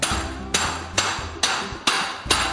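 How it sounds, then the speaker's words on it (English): A hand hammer strikes a copper timpani bowl in a workshop, six sharp metallic blows at an even rhythm of roughly half a second, each ringing briefly before the next, with no talking. "Well, over here, Brett, we have the hand hammering of the hand-hammered series of timpani."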